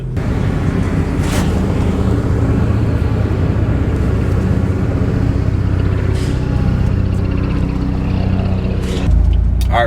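Steady low road rumble and engine drone inside a moving BMW F80 M3 fitted with an M Performance front lip, continuous and loud throughout, with no talking.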